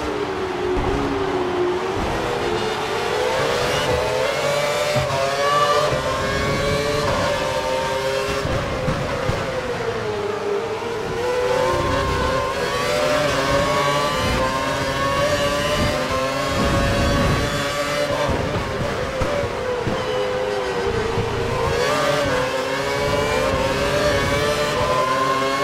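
Ferrari Formula 1 race cars accelerate during a practice session in Montreal. Their high, rising engine whines sweep through repeatedly in waves as cars pass, loud and continuous, with no speech.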